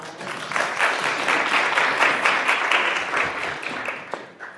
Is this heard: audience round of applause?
yes